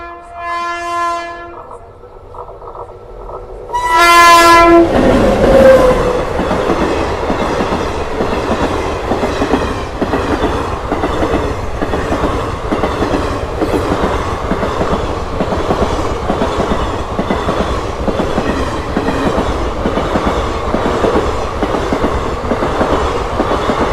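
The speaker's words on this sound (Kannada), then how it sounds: "ಟ್ರೈನ್ ಬರತ್ರಿ ಈಗ." A train approaches a closed railway level-crossing gate. A loud horn blast sounds first, then the train passes close by with a continuous heavy rumble and rhythmic clickety-clack of wheels.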